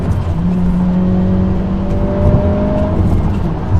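A manual transmission car's engine blips and rises in pitch as the driver downshifts and rev-matches, a steady close-up drone with climbing tones in the middle and no talking.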